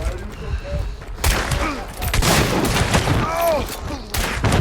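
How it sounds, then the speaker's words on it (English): Rapid rifle shots from a Winfield in the video game Hunt: Showdown, several loud cracks in quick succession mixed with game noise, and a voice talking over the firing. "swap over to the Winfield, turn and throw out some shots"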